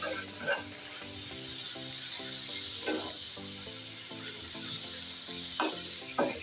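Shrimp fry with onions in a pan, a steady hiss and sizzle running underneath louder music throughout.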